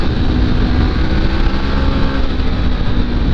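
A Honda CB500X motorcycle loaded with luggage rides a twisty West Virginia mountain road, with a steady, loud engine drone and heavy wind rush that hold throughout without a break.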